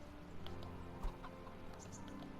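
Chickens clucking in the Kingdom Come: Deliverance game, faint scattered clucks over a quiet hum of ambient background sound, with one brief louder bump.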